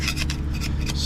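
Old paint being scraped off a boat hull that is rusting in places, close rhythmic rasping strokes repeating several times in quick succession over a low steady background hum.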